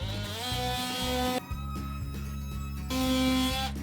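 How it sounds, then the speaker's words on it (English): An electric power sander vibrates against wood while making a children's rainbow cup holder, giving a close, steady buzzing hum that drops and rises in pitch as pressure changes. "It just vibrates at high speed, and it's just quite a convenient way to sand."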